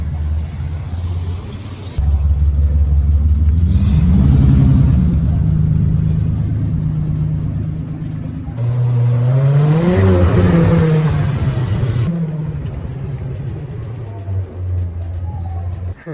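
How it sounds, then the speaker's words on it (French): A Lamborghini Aventador SVJ supercar drives past on a city street, its engine rumbling loudly before a sharp rev that sweeps up and down in pitch, then settles back to a deep idle. "Alors, on a une Lamborghini Aventador SVJ."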